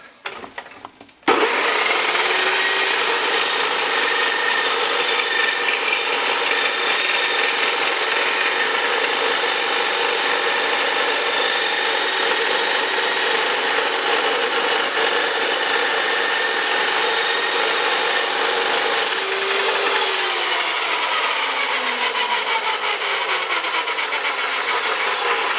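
A Jepson 14-inch dry cutter saw spins up and cuts through an aluminum and plastic strip with a loud, sustained high whine, then winds down near the end.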